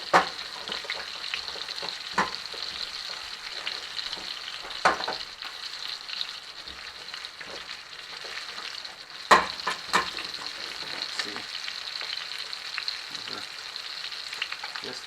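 Ribeye steak and eggs fry in butter in a cast iron pan with a steady crackling sizzle, punctuated by several sharp spatula scrapes and pops.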